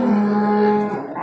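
Limousin cows lowing at a livestock market, a single long, loud moo held steadily before trailing off, close by with no talk over it.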